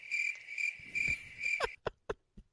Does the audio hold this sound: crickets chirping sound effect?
yes